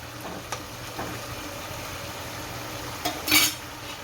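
Semolina for upma is tipped a little at a time into a pan holding thinly sliced potato. Faint scattered clinks in a quiet kitchen lead to one short, louder grainy rush of pouring near the end.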